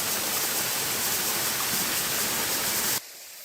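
Loud, constant rushing roar of Baram Falls on Wolchulsan mountain in Korea that fills the whole clip, cutting to a quieter hiss near the end.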